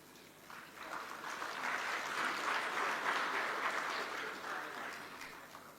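A ceremony audience applauds as public institutions present dividends to the President. The clapping is soft and distant, swelling gradually into a broad, sustained patter before easing slightly.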